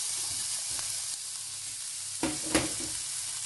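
Raw potatoes hitting oil heated to 180 degrees for a potato soup, giving a steady broadband hiss with a couple of sharper sizzling bursts near the end as pieces drop in, close and without voices.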